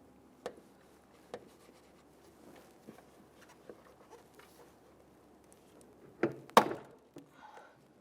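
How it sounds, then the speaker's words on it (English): A plastic trim tool pries and pops out a plastic trim button on a 2011-2019 Ford Explorer hood, giving a few close, sharp clicks and scrapes, with a louder cluster of snaps near the end in a quiet setting. "Now I'm going to use my trim tool, and we want to remove this trim button."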